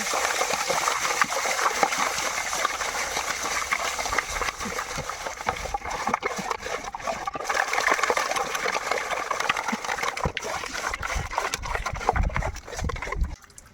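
Water pours and splashes over pieces of fish being washed, with continuous rushing and sloshing up close and hand rubbing throughout.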